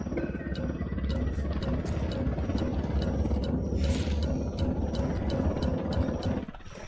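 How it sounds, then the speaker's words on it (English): A helicopter in the video game Ghost Recon Wildlands gives a steady, loud rotor-and-engine drone with rapid chopping pulses throughout, cutting off abruptly near the end. "Hit the dirt, helicopter."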